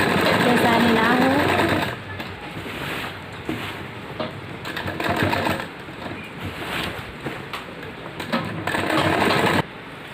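A sewing machine stitches a palazzo pant seam up close, running in steady bursts that rise and fall in loudness. A person talks over it throughout.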